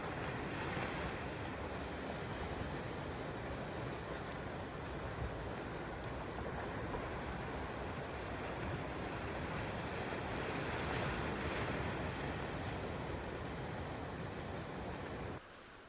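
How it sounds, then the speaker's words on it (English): Sea surf on the north of England coast washes in as a steady, broad roar mixed with wind buffeting the microphone, continuous and fairly loud with no voices, cutting off abruptly at the end. "Nothing but the sound of the waves last night."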